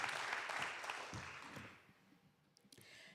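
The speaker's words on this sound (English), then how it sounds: "Let's give both of our candidates for Nassau County Legislator, 1st District, a round of applause." Applause from an audience at a candidate forum for county legislator, a faint, distant wash of clapping that gradually fades out, followed by a few scattered claps.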